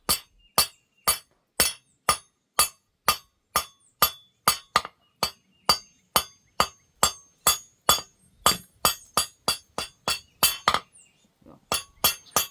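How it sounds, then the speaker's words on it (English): Sharp, ringing hammer blows texture metal on a hand-forged candle holder, struck in a steady, fast series of bright clinks with brief pauses, close and alone without talk. "hammer finishing."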